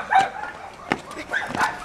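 A dog barks and yips in three short bursts at moderate distance, with faint voices in the background.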